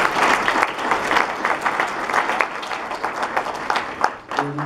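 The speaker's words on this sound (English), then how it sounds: "Give yourselves a round of applause because you deserve it." A large community meeting audience on a morning gathering about oil drilling applauds itself in a loud, dense, steady burst of clapping that thins near the end as a voice begins.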